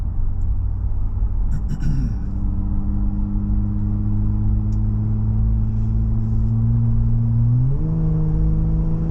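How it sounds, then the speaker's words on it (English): A 2018-2020 Jeep Wrangler JL 3.6L with an MRT axle-back dual-tip exhaust: a steady, deep drone at low throttle, with a smooth rise in pitch near the end as the revs climb. "we have just a nice presence of exhaust, not obnoxious, overwhelming, or overbearing in any way"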